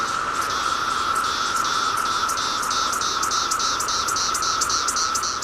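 A chorus of countless male cicadas massed together: a steady, loud droning buzz with rhythmic pulsing waves rising and falling throughout, no voices.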